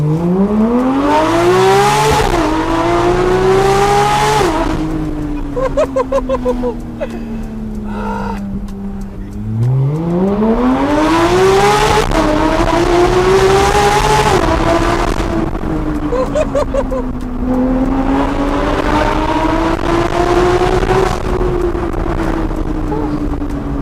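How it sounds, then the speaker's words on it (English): Porsche GT3 RS fitted with an Eventuri intake pulling hard under acceleration, loud induction noise rising through several gear changes, engine pitch climbing and dropping between shifts over a steady roar. "If I do a pull here, you can hear the induction noise."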